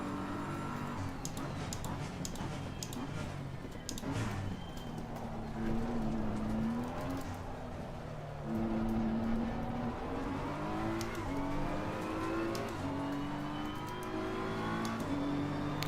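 Race cars, including a Nissan GT-R, roar around the Spa circuit in Assetto Corsa Competizione, one engine climbing steadily through the gears with repeated upshifts, while other cars whir past in the background.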